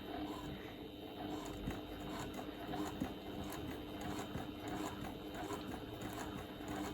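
Sewing machine stitching the raw edges of a fold-over mini fabric basket a quarter inch in, running slow and steady as a continuous close mechanical whir with no talk.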